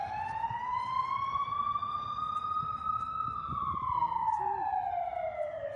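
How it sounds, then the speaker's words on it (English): Emergency vehicle sirens wail steadily as they pass outdoors near a vegetable plot, one rising and then falling tone sustained loud throughout over a low rumble of traffic. "Can you hear all the sirens and things going past?"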